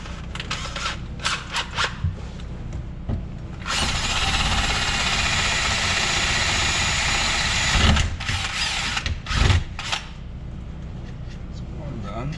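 A power drill bores a hole in a Can-Am Defender during a manual wiper install, a steady high whine lasting about four seconds, with short bursts before and after and occasional clunks.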